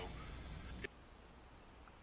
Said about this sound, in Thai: เสียงจิ้งหรีดจิ้งจิ้งจิ้ง